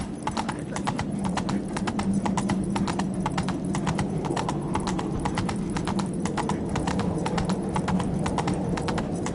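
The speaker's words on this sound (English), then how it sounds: "Run, Roach" Horse hooves gallop steadily in The Witcher 3, a fast, even clip-clop rhythm that holds close and loud throughout over a low rumbling game backdrop.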